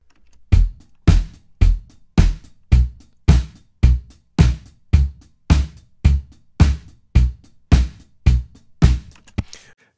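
Bass tones from a tuned PVC pipe: about fifteen evenly spaced, booming low thumps with sharp attacks and short decays, loud and close, with nothing else heard.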